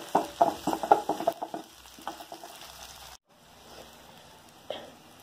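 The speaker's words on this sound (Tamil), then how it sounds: "வெங்காயம் வதங்கிடுது." Onions sauté in a pan with a soft sizzle, marked by a quick run of stirring clacks and scrapes at the start, then a quieter hiss with one more clatter near the end, close and unaccompanied by speech.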